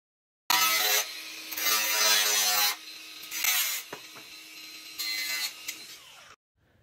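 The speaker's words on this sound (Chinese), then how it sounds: "这是后面的一个装饰盖，这个装饰盖呢也要切掉一部分。" A tool saws through a decorative cover on a projector ceiling mount in repeated loud, grinding bursts separated by short pauses, close by and without talking, ending in silence.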